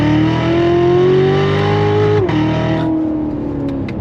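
A Chevy C7 Corvette Lingenfelter Z06 engine revs hard in second gear from 3,000 RPM, pitch climbing steadily before a quick drop and lift-off, loud and close with a raspy exhaust note.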